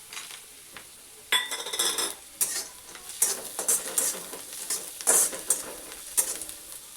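Peanuts stirred into onions already fried in a pan, with a soft sizzle under scraping spoon strokes and clinking metal that come in irregular bursts after a quieter opening.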